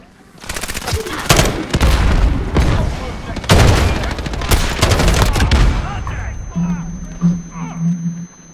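Gunfire from a new weapon in the 2019 Call of Duty video game, heard as loud rapid bursts of automatic fire with short gaps between them. A low hum and quieter game sounds follow as the shooting stops.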